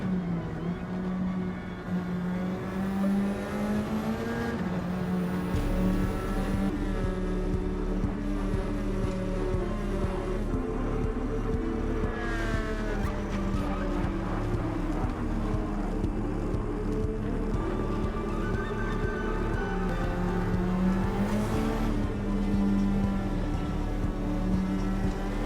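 Race car engine in Gran Turismo 7 lapping steadily in fuel-saving mode on the second lap, a continuous loud drone with gently rising and falling pitch, no voices.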